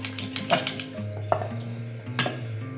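Yogurt being stirred in a bowl to break up the curds for a creamy Punjabi malai lassi, a spoon scraping and clinking against the container in a few close strokes, with faint kitchen hum underneath.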